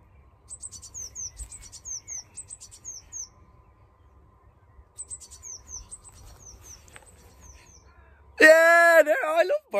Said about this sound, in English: I love birds. They're just nature's music.